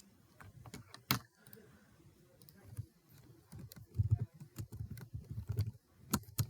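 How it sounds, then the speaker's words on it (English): Fingers tap on a computer keyboard in a quiet room, with soft irregular keystroke clicks that come in bursts and grow busier toward the end. "and I might type it as well"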